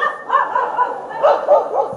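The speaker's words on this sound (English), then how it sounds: "How many dogs? A pack of dogs." A pack of dogs barking as a comedic sound effect, several overlapping yips and barks in quick succession, loud and close, with a whimpering edge and no talking.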